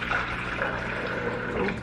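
A cup of water being poured for a homemade recipe, a steady, continuous splashing trickle of liquid heard close and alone.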